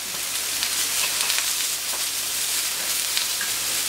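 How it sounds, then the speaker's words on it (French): Small tomatoes and aubergines cooking on a hot plancha griddle, a dense, even hiss of sizzling with faint crackles throughout, steady and fairly close, no voices. "Petite tomate grillée à la plancha"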